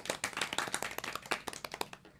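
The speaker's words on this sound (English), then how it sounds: "Can we get a round of applause?" A small audience at a Social Media Week LA 2016 panel gives a round of applause. The distinct individual claps rise and fall unevenly, then stop just before the end.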